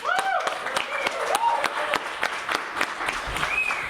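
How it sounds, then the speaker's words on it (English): Applause from an audience at a political party event, scattered claps and cheering voices with brief whoops rising and falling, a lively crowd sound that stays fairly busy throughout. "Give yourselves a big round of applause."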